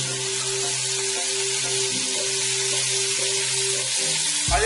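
Meat for homemade churrasco grego searing in very hot oil, a steady loud sizzle and crackle filling the whole stretch, with a soft clink of a utensil near the end.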